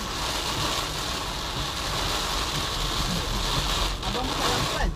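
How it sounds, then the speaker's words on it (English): Heavy rain pounding on a moving car, a dense steady hiss and drumming that stays loud and constant throughout. "Heavy raining."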